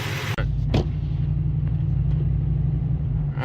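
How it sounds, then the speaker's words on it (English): Steady low engine rumble and road noise from a car with a Ford 4.6 V8 that has a misfire, out on a drive, with a brief clatter near the start and a continuous hum throughout. "let's take it for a spin and see if our misfire comes back."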